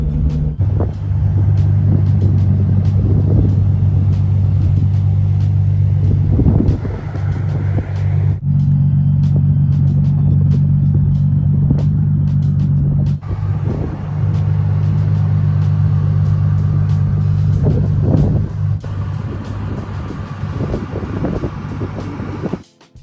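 Nissan 370Z pulling out of a driveway, its engine a steady close low rumble with a brief dip midway and small revving swells, no voices.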